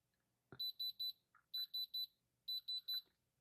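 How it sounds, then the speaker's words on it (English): After a soft click, a diamond tester touched to a moissanite ring stone gives three quick bursts of three high electronic beeps each, clean and close in a quiet room. "Yeah, but it will make a beeping sound."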